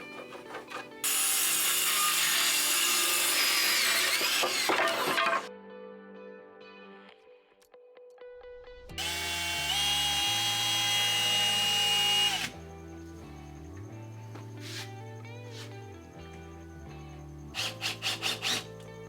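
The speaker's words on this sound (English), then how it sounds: "we're gonna cut some 1x2s to that length" Loud power-saw cutting 1x2 wooden boards in two long passes, with quieter motor hum and clatter between, ending in a few short bursts.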